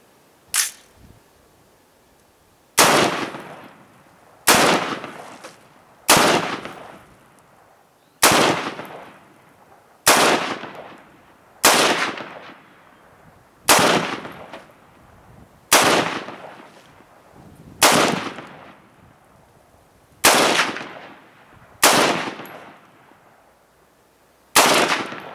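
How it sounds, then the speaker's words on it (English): Rifle shots fired at plastic jugs outdoors, about a dozen sharp loud cracks at a steady rhythm of roughly two seconds apart, each followed by a short decaying echo, with no talking. "Got me a few jugs out here in the front. I'm gonna shoot them up."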